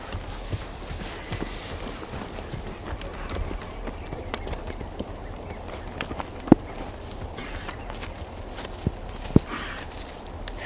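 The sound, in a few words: horses walking, hooves clip-clopping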